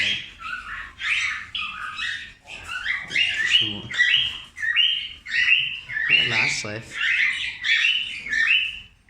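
Canaries chirp and trill in quick repeated bursts throughout, close and fairly loud, with someone speaking briefly over the birdsong.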